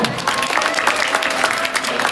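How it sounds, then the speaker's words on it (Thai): Applause for Dao at a birthday fan meeting, dense crowd clapping with individual claps standing out, with faint voices mixed in. "ขอเสียงปรบมือที่ดาวหน่อยเร็ว"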